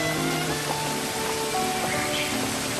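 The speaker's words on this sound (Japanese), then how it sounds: "会場1時間前に突然の雨" A sudden rain shower falls at a church venue in Nagasaki, a dense steady hiss of rain on surfaces filling the space, with faint tonal hums and murmurs beneath.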